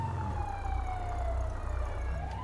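Police siren from a video game, a loud continuous wail sliding slowly downward in pitch over a low engine-like rumble, then starting to rise again near the end; no talking.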